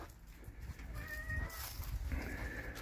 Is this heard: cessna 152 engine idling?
no